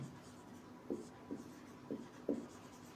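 Chalk or marker on a classroom board during a physics lesson: four short, separate scratching strokes spaced about half a second apart over a quiet room hum, with no speech.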